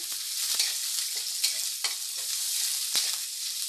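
Chopped onion sizzles steadily in a hot pan for an egg curry, with a few sharp stirring scrapes and spatters standing out over the constant fry hiss; no one speaks.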